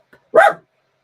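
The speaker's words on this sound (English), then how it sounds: "there's someone at the door and the dog's going mad" A pet dog indoors gives one sharp, loud bark at someone at the front door, near and clear, with a faint yelp just before it and silence after.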